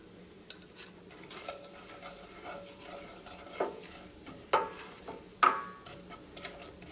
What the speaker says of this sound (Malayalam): ഓയിലിലേക്കാണല്ലോ നേരിട്ടിട്ട് മസാലപ്പൊടികൾ ഇടുന്നത്.